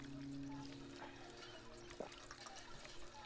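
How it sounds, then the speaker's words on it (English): Water drunk from a water pump in Fallout 4, heard as a soft continuous pour and trickle with a few faint drips, low in level and steady throughout. "So I need to drink. Already got a water pump ready."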